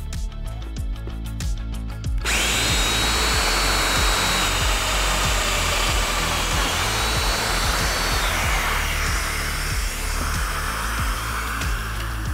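A Festool Domino DF 500 joiner cutting a mitre joint kicks on after a short pause, then runs as a loud, close, steady high-pitched motor whine with a rushing cutter sound for about ten seconds.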